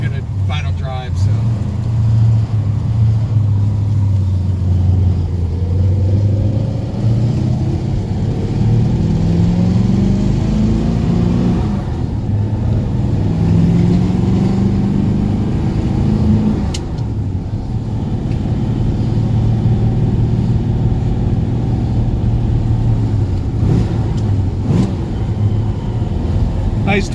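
A car engine pulls through the gears on a road drive, with rising and falling revs and a downshift in the middle, steady and fairly loud with people talking over it inside the cabin.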